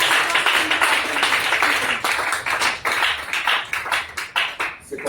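A church congregation applauds the Holy Spirit, with loud, sustained clapping from many hands and rhythmic bursts throughout.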